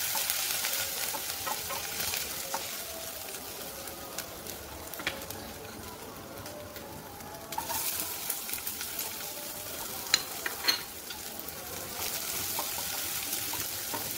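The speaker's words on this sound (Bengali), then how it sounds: "আদাটা হালকা ভাজা হয়ে গেলে আমি পেঁয়াজ কুচিটা এর মধ্যে দিয়ে দেব।" Chopped ginger and onion fry in hot oil in a pan, giving a steady, soft sizzle with occasional scrapes and knocks of a spatula, moderately close and without speech.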